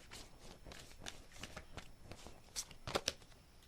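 Tarot cards riffled and shuffled by hand, a run of soft papery flutters building to a few sharper, louder snaps near the end, close by with no talking.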